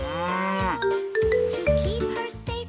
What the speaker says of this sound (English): Hello there, my beautiful cow.